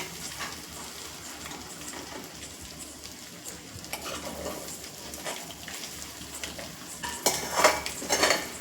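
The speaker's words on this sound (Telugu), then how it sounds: "ఎగ్ బాగా ఫ్రై అయిపోయింది ఇప్పుడు ఒక ప్లేట్లో తీసేసుకుంటున్నాను" A fried egg is scraped and scooped out of a pan onto a plate, a soft clatter of a utensil against cookware over a faint frying hiss, with louder scraping near the end and no talking.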